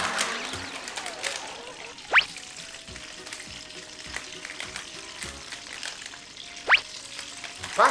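Food sizzles and crackles in a frying pan at close range, a steady hiss with a few sharp pops and clinks of a utensil against the pan, and no speech over it.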